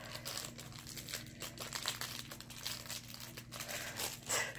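Plastic packaging on anime merchandise from an Otakon haul being unwrapped, close crinkling and crackling with irregular bursts of tearing and rustling, fairly quiet and continuous.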